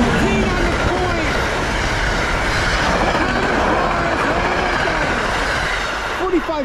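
New Jersey Transit Bombardier ALP-45DP locomotive 4517 hauling a westbound passenger train past close by, a loud continuous roar with rhythmic wheel clatter and occasional squeals, a voice briefly audible over it.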